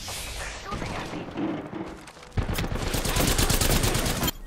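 Gunfire in Apex Legends, with a Mastiff shotgun among the weapons, cracks in dense rapid bursts, intensifying into near-continuous loud shooting in the second half.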